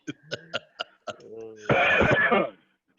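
A few short sharp coughs are followed by a longer, rougher burst of hacking or laughing, then a brief pause and one last small sound.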